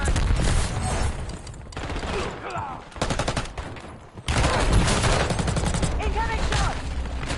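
Gunfire in the Call of Duty video game breaks out in dense bursts of automatic fire, loud and continuous, with a short lull in the middle before the shooting picks up again.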